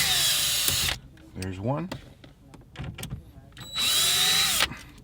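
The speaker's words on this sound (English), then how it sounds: "to take out the radio, you're going to 4 T20 Torx screws, counterclockwise." Power driver backing T20 Torx screws out of the radio bezel on a 2010–2014 VW Golf GTI/Golf R, two long loud whirring bursts at start and end with a short mechanical clatter between, someone speaking briefly over it.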